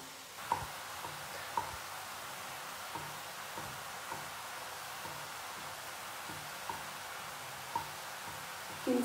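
Mushrooms cooking in a pan give off a soft, steady sizzling hiss at low volume, broken by occasional light taps of a utensil against the pan.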